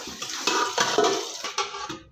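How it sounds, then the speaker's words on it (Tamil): Water splashing as fish pieces are rinsed for a curry, broad sloshing bursts repeating every half second or so, close and fairly loud with no talking. "இப்போ இதை திருப்பி ஒரு 2-3 அலசி அலசிக்கலாம்."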